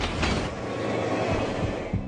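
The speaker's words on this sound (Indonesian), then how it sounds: "kereta yang dikemudikan Frank dan Will saat ini tengah berada dalam masalah besar karena berada satu jalur dengan" A runaway-chase train in an action film runs along the railway track, a loud rumbling roll with rhythmic clacks of wheels over rail joints.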